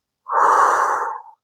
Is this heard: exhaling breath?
yes